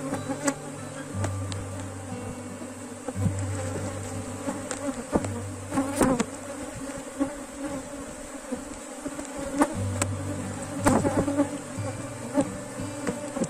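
Honey bees buzzing around an opened hive frame: a dense, steady drone of many bees close by, with individual buzzes rising and falling in pitch and occasional clicks and knocks from handling the frame.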